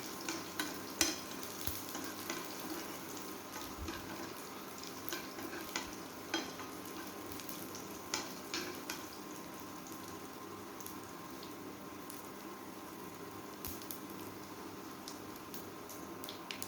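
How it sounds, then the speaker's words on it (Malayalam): Small onions sizzling in a pan while being stirred for a mango curry, a steady low crackle of frying punctuated by occasional scrapes and clicks of the spoon against the pan. "ഒരു ബ്രൗൺ കളർ ആകുന്നത് വരെ നമുക്കൊന്ന് ഇളക്കി കൊടുക്കാം."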